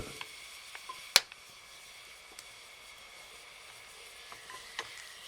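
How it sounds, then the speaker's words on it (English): A Roman-style sauce simmers and reduces in a pan with a soft, even sizzle, broken by a sharp utensil click and a few faint taps. "Meanwhile, we cook the sauce. We need to reduce it just a bit."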